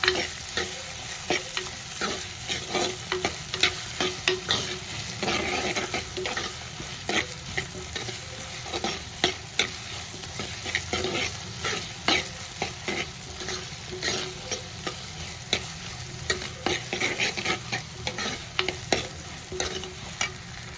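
Onions sauté in a pan for a taro root (seppankilangu) kara kuzhambu, with a busy sizzle and frequent rhythmic clinks and scrapes of a spoon stirring them, close by and without speech.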